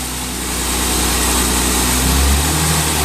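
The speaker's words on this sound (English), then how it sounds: "Rev it up." A Ford Taurus engine runs close and loud, its steady drone swelling slightly in a gentle rev before easing back toward idle.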